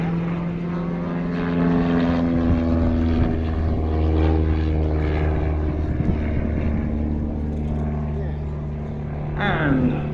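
A Pitts Special aerobatic biplane performs an airshow display, its piston engine and propeller making a loud, steady drone that rises and falls slightly, with a commentator talking over it.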